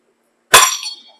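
A throwing knife strikes a wooden target flat and bounces off, one sharp loud smack with a short ringing rattle as it falls away.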